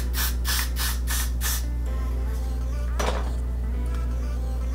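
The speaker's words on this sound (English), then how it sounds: "All I'm gonna do is spray this around my hairline." Got To Be Blasting Free Spray hisses from an aerosol can in several short bursts around a lace-front wig hairline, followed by a single later burst, over a steady low electrical hum.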